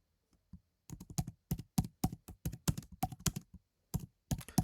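Fingers type on a computer keyboard while entering text in a graphic design program, a close run of rapid irregular key clicks in bursts with short pauses, no talk.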